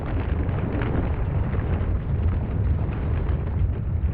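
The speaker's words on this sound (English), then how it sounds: "in spring 1997, the volcano erupted again" A volcanic eruption roars in a dense, continuous rumbling blast, loud and deep, with crackling bursts and no voices.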